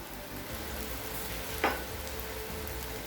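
Steady soft sizzle of oil on a frying egg dosa on a hot griddle, with one brief sharper crackle midway, close and low in level, no voices.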